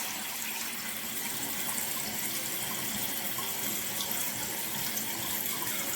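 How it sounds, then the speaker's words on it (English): Water runs steadily from the supply into a toilet under repair after its flapper was replaced, a constant close hissing flow with no talking. "The water's on."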